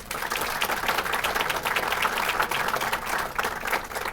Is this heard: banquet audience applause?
yes